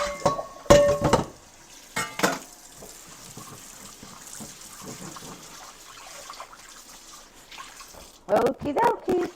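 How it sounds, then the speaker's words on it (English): A cooking pot is rinsed out with running water in a home kitchen, a steady low splashing wash under faint clinks of the pot, bracketed by louder knocks and bursts of sound at the start and end. "Let me just rinse this pot out for a quick second."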